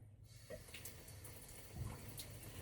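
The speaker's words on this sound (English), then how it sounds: "Okay, we're going to rinse you off one more time." Running water poured to rinse someone off during a bath, a soft steady faucet stream with light splashing, fairly quiet and with no talk.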